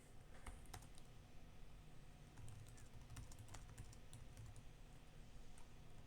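Quick, irregular clicking keystrokes on a computer keyboard while Python code is entered, close and quiet, continuing steadily with a faint background hum.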